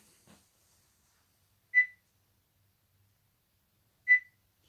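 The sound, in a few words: electronic device beeping in a video game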